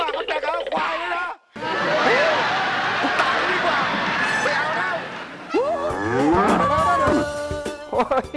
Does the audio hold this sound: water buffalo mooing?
yes